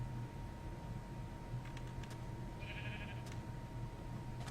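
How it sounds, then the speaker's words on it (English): Sheep in Minecraft, within the RxCraft modpack, give a short, faint bleat midway through, alone over a quiet game backdrop with a steady low hum and a few soft clicks. "Actually, I had a few sheep in there as well."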